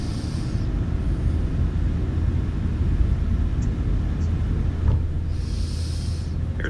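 Airliner engines spool up to takeoff power on the runway, heard from the cockpit as a steady, heavy low rumble with faint high chimes near the start and end.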